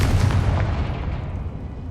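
A Confringo spell explosion in Hogwarts Legacy bursts with a loud booming blast that rolls into a decaying low rumble, heard on its own without talk.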